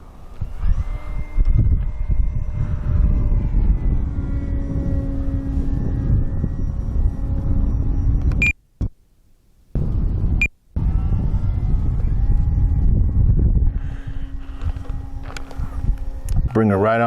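An FMS Ranger 1800mm high-wing RC trainer plane passes overhead with a steady droning motor hum that holds loud for most of the stretch, with a voice talking over it and two brief dropouts in the middle.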